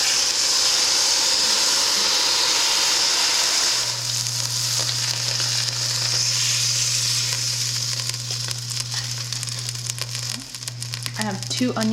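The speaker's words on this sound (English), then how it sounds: "I'm going to sear this for about 5 to 6 minutes on each side." Meat for pot roast searing in a hot pan, a steady broadband sizzle throughout, close and fairly loud, with a low steady hum entering partway and brief clatter near the end.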